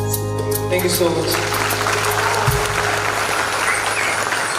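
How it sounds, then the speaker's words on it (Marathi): An audience at a Vasai Idol singing event applauds loudly after a song, sustained dense clapping right after the last sung notes fade. "आणि बघ केवढ्या जोरदार टाळ्या तुला आल्या"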